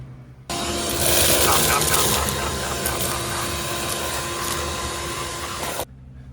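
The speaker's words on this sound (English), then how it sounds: "Let's go get the vacuum and clean this sucker out." A loud vacuum cleaner motor whine starts abruptly, holds steady for several seconds with shifting roar while sucking debris out of a 2018 Kia Optima cabin air filter housing, then cuts off.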